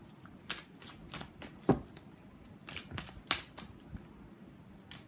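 Tarot cards being shuffled and pulled for a love reading, a run of crisp riffling flicks and slaps in an irregular rhythm, close and clear with no talk.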